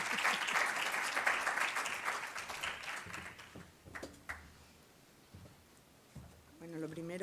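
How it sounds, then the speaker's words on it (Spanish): An audience applauds after a talk is introduced, a burst of clapping that fades out over a few seconds, then some scattered taps and handling noises before a voice begins. "Darle un aplauso y muchas gracias."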